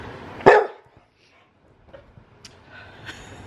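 Dogs playing rough, one large 72-pound dog and a tiny 2-pound pup, with a single sharp close bark followed by quieter scuffling, faint yips and small noises.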